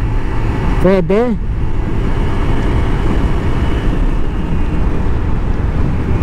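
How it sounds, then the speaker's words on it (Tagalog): An FKM Ranger 150cc motorcycle accelerates on a test ride, its engine droning steadily and loudly throughout with heavy road and wind rumble, while someone speaks briefly near the start. "dito try natin siyang i-arangkada mga brothers"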